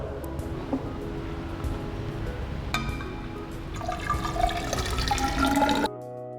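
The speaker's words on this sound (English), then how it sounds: "We now fill this measuring cylinder with water." Water fills a 500 millilitre measuring cylinder, a close, continuous gurgling pour whose pitch rises as the level climbs and then stops abruptly, with no talking.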